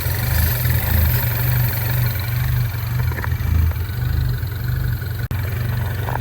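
MINI Cooper S N18 engine idling with a steady low rumble and a fine mechanical clatter running throughout, close and loud, with a sharp click near the end and no talk.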